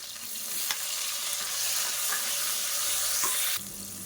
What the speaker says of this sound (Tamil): இப்போ பார்த்தா தக்காளி வெங்காயம் எல்லாமே நல்லா வதங்கிருச்சு